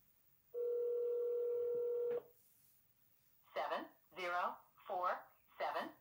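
Telephone dialing while calling back a sales lead: a long steady tone, then a run of short, evenly spaced keypad beeps, clear and close with no talk over them.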